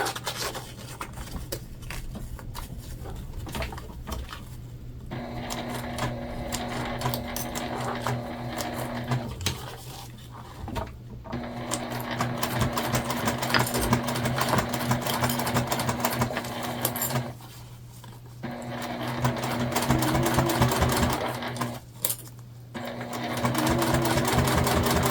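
A sewing machine runs a seam on a sling bag, humming loudly in long continuous stretches broken by a few short stops.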